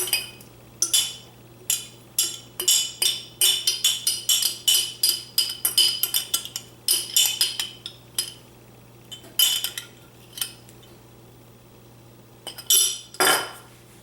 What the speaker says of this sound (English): I'm just gonna scrape the bottom of the jar, get every little bit we can